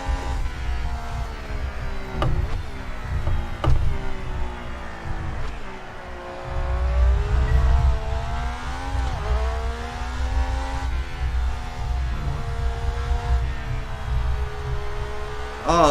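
Ferrari Formula 1 car engine in the F1 2018 racing game at the Australia circuit, a continuous droning whine that rises and falls in pitch as the car accelerates, heard close and loud.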